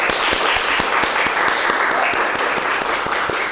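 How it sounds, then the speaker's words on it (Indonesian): Loud, close applause from a school audience in Indonesia welcoming a visiting company CEO, many hands clapping continuously in a thick, even roar with a few distinct claps punching through. "Beri tepuk tangan yang meriah."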